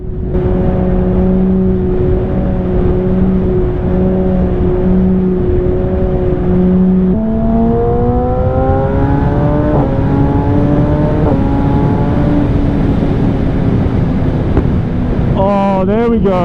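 Yamaha R6 sport motorbike engine on the highway, a loud steady drone that rises in pitch as it revs up under heavy wind rush, with a brief sharper rise near the end.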